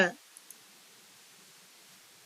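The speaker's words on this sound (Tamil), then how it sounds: "லாகின் அப்படிங்கிற ஆரஞ்சு கலர் பட்டனை கிளிக் பண்ணுங்க" A single mouse click on an orange login button, short and crisp, followed by a faint second tick, alone in near silence.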